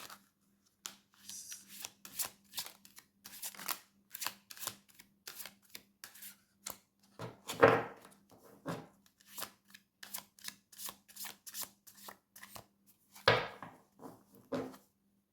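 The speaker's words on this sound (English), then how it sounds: "I can only shuffle these half a deck at a time as the deck's so big" A very large deck of playing cards is riffle-shuffled half a deck at a time, producing repeated crisp fluttering bursts separated by brief pauses and a few louder handling thumps, close and otherwise quiet.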